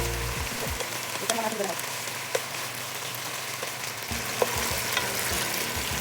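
Chicken frying in a pan with a steady, dense sizzle like rain on a surface, a few spatula clinks, and a short spoken phrase briefly over it.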